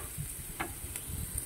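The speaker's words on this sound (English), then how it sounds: "While we cooking the onions, frying the onions" Chopped onions sizzle steadily in a hot pan for spicy fried rice, a constant crackling hiss with a few soft clicks of stirring and no talk.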